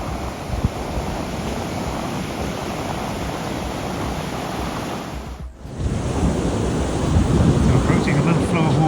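Surf on an empty beach, a continuous broadband roar of breaking waves with wind buffeting the microphone, growing louder after a brief dip midway.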